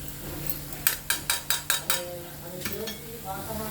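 Apple halwa being stirred in a pan with sugar, cardamom powder and food colour, giving a run of five sharp scraping clinks of a spoon against metal, then softer scrapes over a faint background sizzle.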